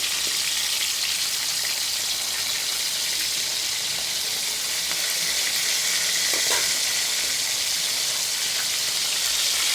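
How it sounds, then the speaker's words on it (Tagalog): Food frying steadily in hot oil, a dense, even sizzle with crackles throughout and no voices. "Prito."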